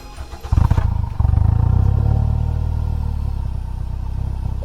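A motorcycle exhaust fitted with a straight-through inner silencer, revving up sharply then holding a loud, deep, throbbing idle with a close, rumbling pulse, no talking.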